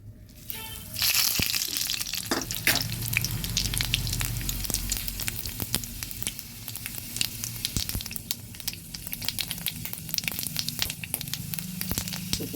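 Loud, crackling sizzle of a dried red chili and five-spice seeds hitting hot oil, starting abruptly and continuing steadily, with small pops and a few utensil taps, no talking.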